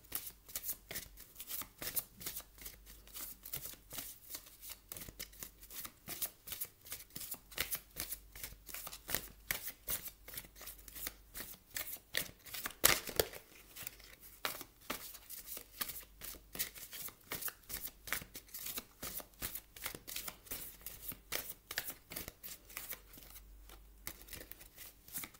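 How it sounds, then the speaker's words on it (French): Tarot cards being shuffled by hand, a steady run of quick riffling and sliding card flutters close by, continuing almost without pause with no talk. "Cartes boudent. Non, elles arrivent, mais trop nombreuses."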